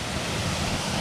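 Stocking Creek Falls on Vancouver Island runs at low autumn flow, a steady, close rush of falling water with a broad hiss and no break, lasting about a second with nobody talking.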